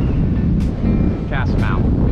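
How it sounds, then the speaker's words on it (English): Strong wind roars steadily across the microphone at the shore during sardine bait fishing, a loud dense rumble that fills the whole stretch, with faint brief higher sounds over it. "A lot of wind today."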